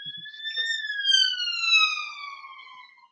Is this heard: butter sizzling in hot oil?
no